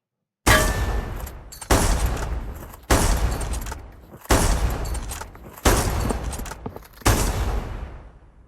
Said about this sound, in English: With enough practice, you can even fire 2 bolt-action rifles simultaneously.